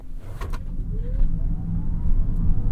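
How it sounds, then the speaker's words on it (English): A 2024 Chevrolet Silverado EV electric pickup launches from a stop, a rising electric motor whine swelling over a low rumble of tire and road noise, close and steady, no voices. "Despite the weight, still bringing this thing down, and then launch."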